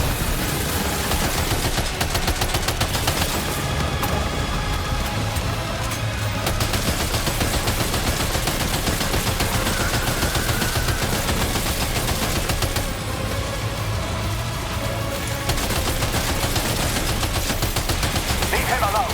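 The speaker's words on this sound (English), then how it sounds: "Opening fire now." Heavy machine-gun fire in Death Stranding 2, continuous rapid volleys at a steady loud level with only short pauses, layered over a deep droning game background.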